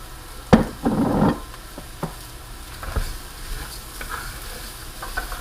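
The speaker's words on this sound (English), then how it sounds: "And I'm going to stir my rice in" Rice being stirred into a hot pan for jambalaya, with a few scraping strokes and a soft sizzle that rises briefly near the start, then fades to quieter intermittent stirring knocks over a low frying hiss.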